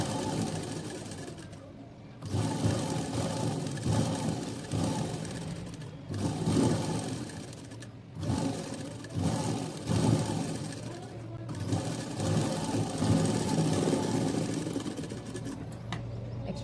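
A sewing machine stitches the waistband of a plain cotton blouse, a close mechanical whirr in repeated short runs with brief pauses between them.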